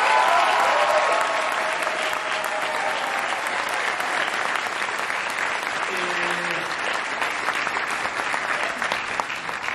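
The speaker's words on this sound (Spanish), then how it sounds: "que se escuche muy fuerte un aplauso para todos ellos" A large audience gives loud, sustained applause for singers and actors at a celebration of a producer's 25-year career, a dense roar of clapping with a brief voice heard partway through.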